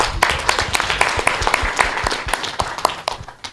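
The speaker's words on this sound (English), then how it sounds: "Give her some clap." An audience at an East African youth agri-food trade fair and expo claps for a woman, dense and continuous clapping from many people, fairly loud and close.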